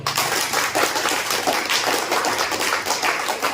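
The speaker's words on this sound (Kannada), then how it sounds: "ಒಂದು ಜೋರು ಚಪ್ಪಾಳೆ ಬರಲಿ" Loud, sustained applause from a seated audience at a gold and diamond plan training session, dense clapping holding steady throughout with no talk over it.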